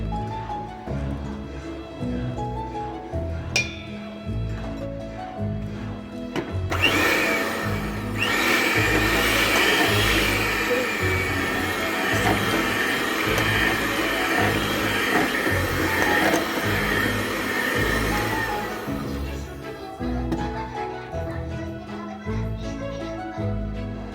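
A steady mechanical whir of an electric mixer beating chocolate cake batter with eggs runs throughout, growing louder and rougher in the middle stretch, then easing back to a lower hum.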